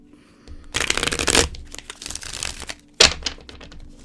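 Playing cards are shuffled in two close, crisp riffling bursts, the first longer, the second short and sharp, with a soft pause between.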